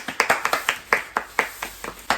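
A small group in a casual setting gives a round of applause as sparse, distinct hand claps, roughly a dozen uneven slaps in loose rhythm, close and fairly loud, without the dense wash of a large crowd.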